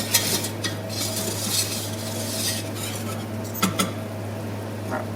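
A spoon scrapes and stirs a foaming butter-and-flour roux in a saucepan for endives au jambon, with soft intermittent clinks and scraping over a steady background hum.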